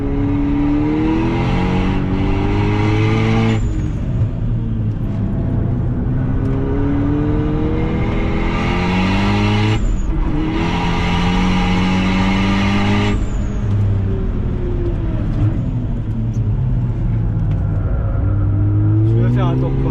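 Car lapping a race track on Nankang AR1 and NS2 tires, a loud in-car engine note climbing through the revs and dropping sharply at each gear change, repeated several times with cabin roar throughout.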